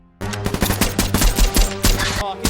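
Dense automatic gunfire erupts in a film scene, a rapid barrage of sharp overlapping bursts aimed at a tower, loud and sustained for a couple of seconds before cutting off.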